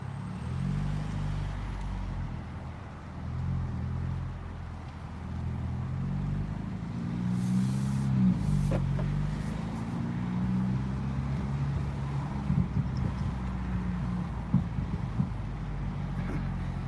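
A 2019 Mini Clubman S with a JCW tuning kit is driven at low speed, a steady low engine and road rumble from inside the cabin with a few faint knocks and rustles.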